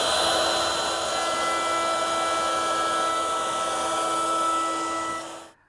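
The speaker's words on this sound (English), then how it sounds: "I want to round over the ends and the back using the same 1/2 inch round over bit" A router fitted with a 1/2 inch round over bit cuts wood with a loud, steady high-pitched whine and rush of air, close by, then winds down quickly as it stops.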